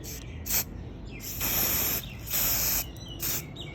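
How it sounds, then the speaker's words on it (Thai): Short repeated hissing bursts from an aerosol can of car gloss coating spray, close and loud, pulsing on and off in several sprays of uneven length with brief quiet gaps between. "สเปรย์เคลือบเงา เคลือบเงานี้เลยนะฮะเคลือบเงาสีสเปรย์รถยนต์"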